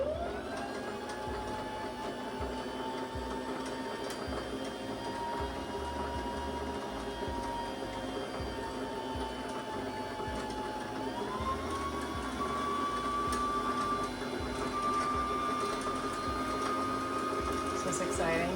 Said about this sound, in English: When the bobbin seems full and begins spinning slowly, take your foot off the foot controller.